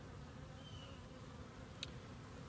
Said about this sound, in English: there is a ton of activity in front of every hive